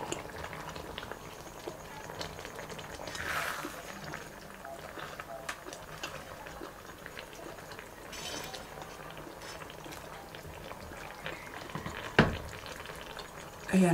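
Food stirred and frying in a pan in a home kitchen, a soft, steady sizzle with faint scraping and bubbling that runs throughout at low volume, with one sharp clack near the end.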